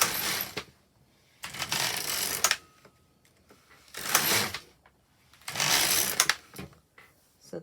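LK150 knitting machine carriage pushed across the needle bed to knit rows of a hem: four close, loud, rasping mechanical sweeps of one to two seconds each, separated by short quiet pauses.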